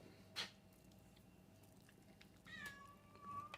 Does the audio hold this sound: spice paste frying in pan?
no